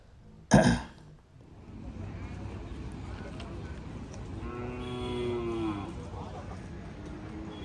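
Kangayam cattle at a cattle market give a sudden loud bellow, then a long, drawn-out moo that rises and fades, with crowd murmur and low background noise throughout.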